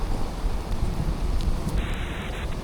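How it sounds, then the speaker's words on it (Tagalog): Steady rain with a low rumbling of thunder beneath, in a forest, broad and continuous, with no voices. "Umuulan. Tapos may kulog at kidlat."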